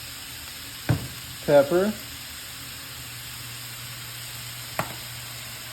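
Vegetables sauteing in a pan for no-noodle lasagna, giving off a steady low sizzling hiss throughout. A voice briefly speaks over it, and there are a couple of soft clicks.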